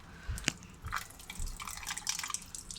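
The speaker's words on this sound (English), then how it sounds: "that's just because the water's flowing off of that" Water dripping and trickling off a gas grill with a low-flame problem, a sharp drip near the start followed by irregular splashes and a steady light trickle.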